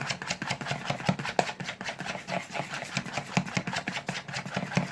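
Pancake batter being mixed with a fork in a bowl, a quick steady run of soft tapping and scraping strokes, close and fairly quiet with no talk.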